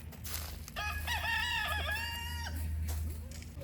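A rooster crows once in a long, loud call close by, with a few soft clucks and a low hum around it.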